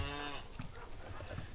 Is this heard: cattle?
yes